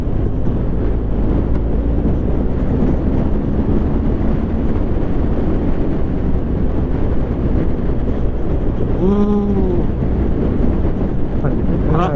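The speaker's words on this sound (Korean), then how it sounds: "이 바람 많이 불네" Strong wind buffets the microphone throughout a ride on a BMW GS1250 motorcycle along the coast at Geumsan, Goheung, a loud steady rumble with a brief tonal swoop near the end and faint voices underneath.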